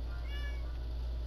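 A cat meows once in a short, clear call over a steady low background hum, fairly close and without any talking.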